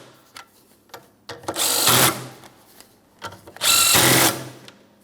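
A power tool snugs down bolts on a 2004-2008 Pontiac Grand Prix front steering knuckle held in a vise, sounding as two loud, sustained buzzing bursts separated by lighter clicks and handling noise nearby.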